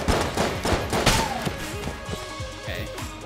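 Gunfire in the video game Enter the Gungeon: rapid, dense bursts of shots and thuds packed together, loud and continuous, layered with other game sounds.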